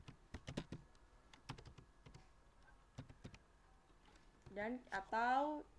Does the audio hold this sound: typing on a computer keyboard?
yes